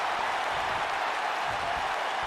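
A wrestling crowd in Tulsa roars and applauds in a steady, dense wash of cheering that holds at the same level throughout, with no single voice standing out.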